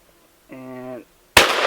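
A .410 shotgun fires a Winchester Super X 3-inch shell of size 7.5 shot, heard as one sharp, loud blast right after a short spoken voice, with the report ringing on to the end.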